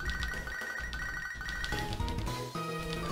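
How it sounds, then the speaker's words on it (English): A chiptune phone ring from the Pokémon HeartGold/SoulSilver game chimes in short repeated bursts over steady game music, loud and clear with no talking. "we get a forced phone call here"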